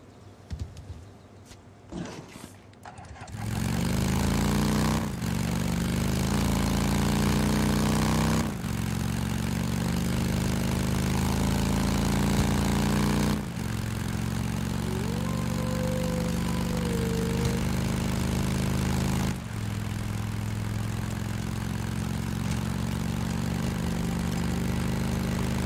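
Motorcycle engine in the zombie survival video game Days Gone, a steady loud idle-to-running drone that kicks in after a few seconds and holds continuously with slight surges, alone without talk.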